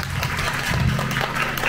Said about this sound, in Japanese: もう一度拍手お願いします